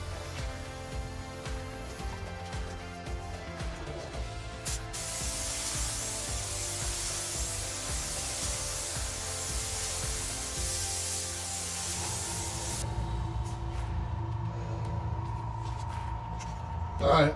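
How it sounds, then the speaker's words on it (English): Spray gun laying a second coat of paint on the roof of a 1950 Chevy Styline, a continuous steady hiss that runs unbroken for the whole stretch, fairly close, with a brief change in tone near the end. "A little extra, spray it all out, make sure the edges are all good"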